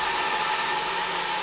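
A wheel balancing machine at a garage spins back up, giving a steady, loud whirring hiss that holds evenly for the whole moment with no talk.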